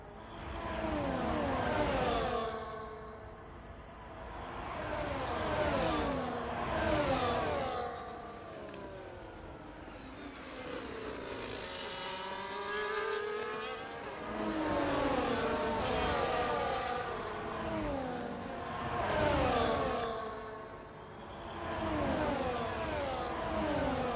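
F1 race cars in the F1 24 video game racing in a close pack at Las Vegas, engines whining and rising and falling in pitch as cars pass and shift, a steady layered roar with no talk.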